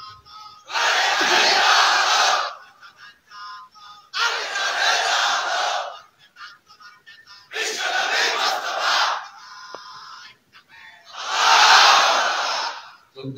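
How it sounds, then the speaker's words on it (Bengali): A large crowd at an Islamic waz gathering in Rajbari roars the takbir in unison, four loud sustained chanted shouts separated by short pauses. "একটু জোরে বলুন তো তাকবীর।"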